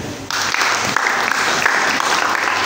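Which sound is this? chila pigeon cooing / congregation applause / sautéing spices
congregation applause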